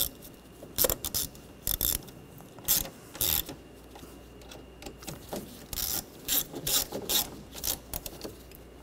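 A hand ratchet tightens screws holding the coolant reservoir on a 2013-2019 Ford Escape 2.0L. Short bursts of quick clicking come close by, broken by pauses of quiet handling and faint rubbing. No one speaks.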